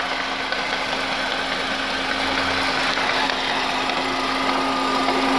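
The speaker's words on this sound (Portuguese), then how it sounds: "Câmbio problemático da Volkswagen. Vou mostrar o barulho dela pra vocês." A Volkswagen CrossFox with a faulty manual gearbox runs in gear. The engine gives a constant loud drone with a steady whining hum and faint knocking throughout, heard close up with no talk.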